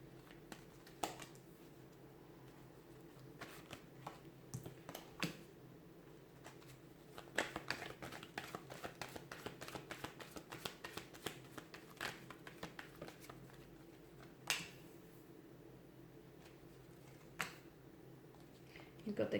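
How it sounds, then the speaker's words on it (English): Tarot cards being shuffled by hand, a soft run of papery riffles and taps that bunch up in the middle and return in short bursts, close and fairly quiet with a low steady hum underneath. "let's give the cards a shuffle"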